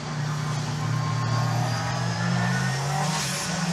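A Group B rally car's engine roars continuously nearby, holding a strong, rasping revving note with slight pitch swells and faint tire noise.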